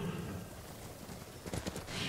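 Horse hooves clip-clopping in the video game Ghost of Tsushima, a steady trotting rhythm over faint ambient game sound, with a brief louder cluster of hoof beats near the end.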